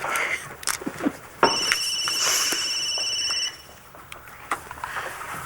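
Telephone rings with a steady electronic tone for about two seconds in a soap opera scene, set against faint room noise and small knocks, with no talk.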